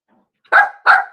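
Two sharp, close dog barks in quick succession, loud and clear against a quiet kitchen background, with no talking over them.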